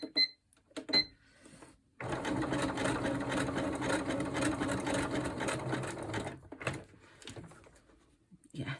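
A sewing machine stitches a zigzag seam for a handmade prayer journal, running steadily for about four seconds after a few short taps and handling sounds, then stopping, with quiet handling noise afterward.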